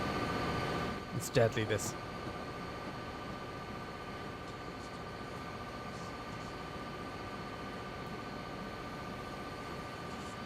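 A train runs along the tracks in the video game DayZ, a steady low rumble and hum throughout, with a brief burst of clatter early on and a short spoken remark over it.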